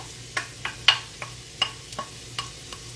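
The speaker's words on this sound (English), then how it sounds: "So I'm just going to throw in my onions and my garlic and my thyme." Onions, garlic and thyme go into heated oil for shrimp saganaki, with a faint sizzle under a series of light clicks and taps from the spoon against the pan, close and spaced unevenly.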